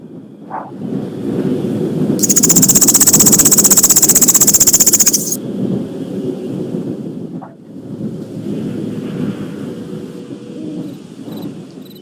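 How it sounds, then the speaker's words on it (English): A low rumble of video game thunder rolls beneath steady rain, broken by a loud burst of bright, hissing noise for a few seconds before the rumbling storm resumes. "You can hear the thunder"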